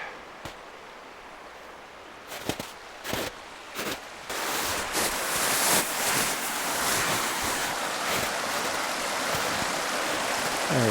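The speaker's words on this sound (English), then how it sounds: "Little creek flowing down" A small creek flows down into a lake in snowy Canadian mountain country, a steady broadband rush of water that grows louder and fuller partway through, with a few brief knocks early on and no talking.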